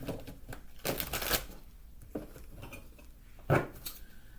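Tarot cards riffled and shuffled by hand in a quiet room, several short papery bursts around one and three and a half seconds with softer shuffling between, close and moderately loud with no talk.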